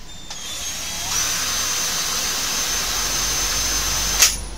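A Mailtank impact wrench spins freely at high RPM, giving a loud, steady whine that rises slightly in pitch after the first second, with a brief burst near the end and no talking.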